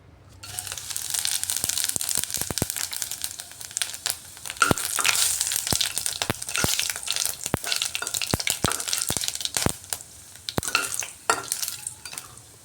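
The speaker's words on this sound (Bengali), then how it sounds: "তেলের মধ্যে এখন ফোড়নটা দিয়ে দিচ্ছি" Whole cumin, dried chillies and cinnamon fry in hot oil for a tempering, giving a loud, close sizzle with sharp crackling pops and stirring scrapes throughout.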